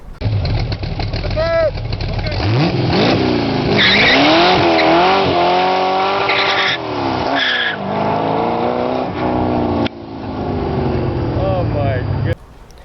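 A De Tomaso Pantera sports car roars at speed with loud, continuous engine noise and squealing tires sliding through turns, with a voice talking over it.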